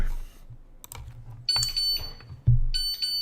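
A countdown timer alarm goes off in loud high-pitched beeping bursts, each joined by a low buzzing thump, with quieter keyboard-like clicks between them.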